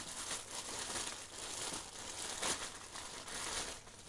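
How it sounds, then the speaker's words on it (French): Plastic packaging around a cap is unwrapped close by, producing soft, continuous crinkling and rustling at low volume, with one brief louder crackle partway through. "Je vais déballer."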